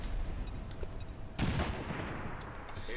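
Grenade detonating in the video game XCOM 2: a sudden booming blast cuts in over a steady game soundscape, then rumbles and fades back into the background noise.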